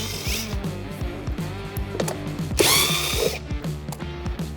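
Cordless power driver backing out T25 fasteners from a modular tool storage handle assembly, with a close, rapid ratcheting chatter and motor whir sounding throughout and briefly revving louder midway.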